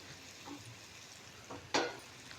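Crumbled leftover chapati dropped into oil with turmeric, red chili and salt, making a faint steady sizzle broken by a sharp, brief stirring scrape near the end.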